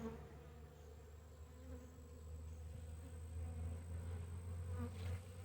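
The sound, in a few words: honey bees buzzing in an opened nuc hive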